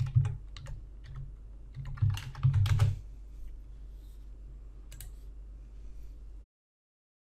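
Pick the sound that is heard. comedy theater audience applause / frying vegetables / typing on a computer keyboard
typing on a computer keyboard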